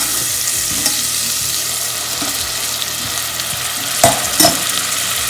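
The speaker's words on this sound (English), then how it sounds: "I could like to fry all my spices little bit." Spices fry in a pan for soya chunk biryani, a steady loud sizzle with occasional stirring scrapes and clinks near the end, no talk.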